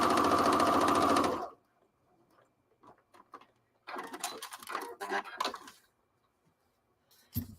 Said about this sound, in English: I'm making a fairly tight stitch to sew these together.